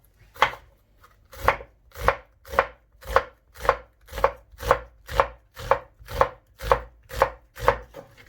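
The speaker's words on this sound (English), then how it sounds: "So here I got my tatashe, my paprika, in long stripes, and then I'm just going to like slice them." A knife slices tatashe peppers into strips on a cutting board, giving about fifteen evenly spaced, crisp chopping thuds at a steady, unhurried rhythm, close and alone.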